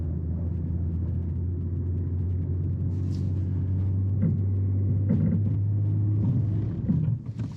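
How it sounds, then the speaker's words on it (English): A 2022 Nissan Pathfinder engine runs at full throttle off pavement, producing a steady, loud low rumble that holds throughout. Faint scrapes and knocks appear near the end. "And I'm full throttle, it's just not even trying."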